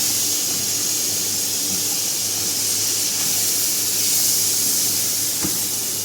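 Tomatoes sizzling in a pan with softened onions, a steady broad hiss of frying that holds evenly and fairly loud for the whole stretch, with one faint clink near the end.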